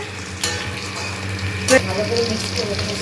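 Spinach saag sizzles in a frying pan while a spatula stirs and scrapes through it, a continuous hiss broken by a couple of sharper scraping strokes, close and fairly loud.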